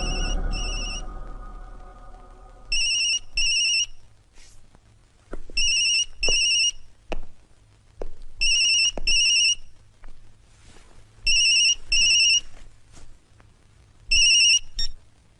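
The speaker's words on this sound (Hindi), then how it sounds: "यशवंत को मोबाइल पे फोन लगाओ" A mobile phone ringtone repeats in regular electronic bursts, roughly every 2.5 seconds, loud and clear over a low steady hum, with no talking.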